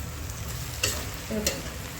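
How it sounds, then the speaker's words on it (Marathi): Onion and tomato frying together in oil in a pan for a chicken dish, a steady low sizzle broken by two short scraping stirs, close and moderately loud, with no voices. "टोमॅटो हा बघा कांदा आणि टोमॅटोचा एकजीव झालाय, चांगला भाजला गेला"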